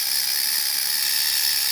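Steady, loud ratcheting mechanical whir from a Magna Sonic device at a car-show auction, running unbroken and alone for under two seconds.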